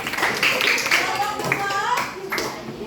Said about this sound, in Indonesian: Oke, beri tepuk tangannya buat kinestetik.